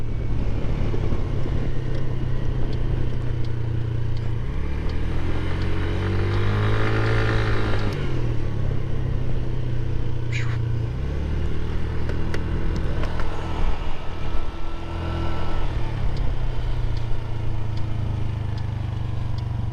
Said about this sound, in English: This scooter's pretty quick.